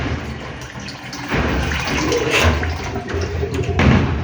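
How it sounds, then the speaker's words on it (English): An American Standard wash-down toilet flushes in a quiet mall restroom, a long, loud rushing of water that swells and churns close by for several seconds with no voices. "The flush is very long."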